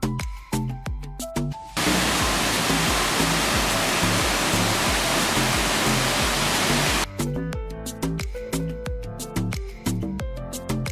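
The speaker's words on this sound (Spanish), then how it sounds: "La cascada, con su caída imponente, invita a los aventureros a sumergirse en sus aguas" Steady roaring rush of the El Chorrerón waterfall in San Fernando, Morazán, El Salvador, loud and continuous for about five seconds between stretches of music that play before and after it.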